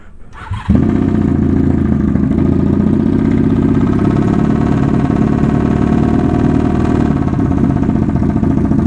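A Honda Magna motorcycle engine cranks and catches, then settles into a loud, steady running rumble at slightly high revs that continues without a break.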